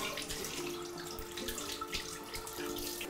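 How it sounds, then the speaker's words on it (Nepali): Tap water runs steadily into a sink during handwashing, a continuous splashing flow with no voices over it. "अब हात धुनको निम्ति धारामा हातलाई पखाल्नुहोस्।"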